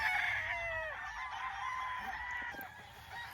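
A Gilmore gamefowl rooster crows once on a farm in Laguna, a loud, near, drawn-out call that trails off, with faint farm background and other birds afterward.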